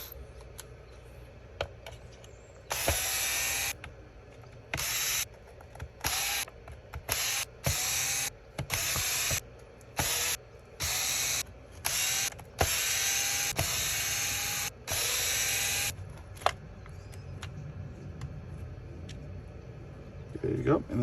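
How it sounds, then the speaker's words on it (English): Screws being removed from the rear bulkhead of a Traxxas Maxx RC car, giving repeated bursts of mechanical ratcheting and clicking in quick sets, close and fairly loud, with quiet pauses between them. "we're going to take these screws out."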